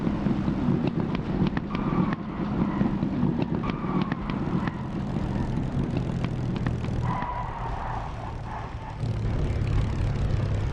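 A propeller aircraft in the DCS flight simulator comes in to land, its engine droning steadily with wind rush and scattered clicks and bumps.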